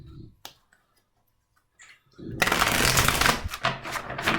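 Tarot cards being shuffled by hand, a dense, steady riffling rush that starts after a couple of seconds of near silence with a few faint taps, then runs loud and close with brief dips.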